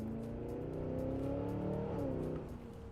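Cadillac Escalade with a V8 engine revving hard close by, a steady loud exhaust roar with crackling pops that eases off near the end.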